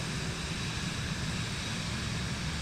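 Airplane engine at takeoff power on runway 18 right in Microsoft Flight Simulator, a dense, even roar that stays loud and constant throughout, with no voices.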